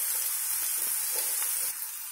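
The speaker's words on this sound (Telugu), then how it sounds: "కొంచెం 2 మినిట్స్ ఇలా వేయించుదాం." Onions frying in a pan for a raw cashew curry, a steady, dense hissing sizzle with faint stirring scrapes, close and continuous with no talking.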